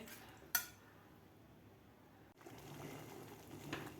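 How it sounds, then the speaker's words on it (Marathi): Jaggery being stirred into wheat kheer in a pot: a single bright clink of a spoon against metal, then a long quiet stretch and faint, soft stirring and scraping. Low level overall, no talking. "आपल्याला व्यवस्थित हे गोड मिक्स करून घ्यायचं आहे"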